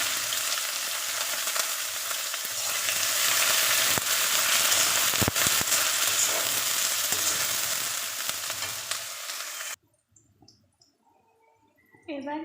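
Chopped garlic and onion hit hot oil with cumin in a home kitchen, producing a loud, dense sizzle for about ten seconds. It cuts off abruptly, leaving near-silence with faint clicks and a brief return of noise at the end.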